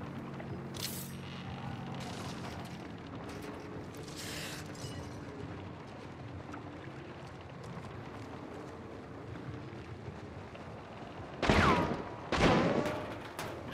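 Gunfire from the video game Hunt: Showdown, a few distant shots early on, then two loud close bursts near the end over quiet ambient background.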